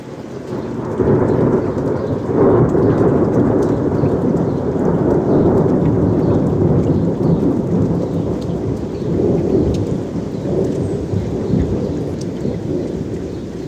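A thunderstorm rumbles steadily, with heavy rain hissing continuously and deep rolling thunder underneath, loud and close and sustained throughout with no voices.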